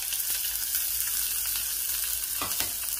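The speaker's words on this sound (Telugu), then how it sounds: "నేను 2 ఉల్లిపాయలు వేసుకుంటున్నాను." Two onions fry in oil with a crackling tempering and curry leaves, a constant loud hiss with a brief stir near the end and no talking.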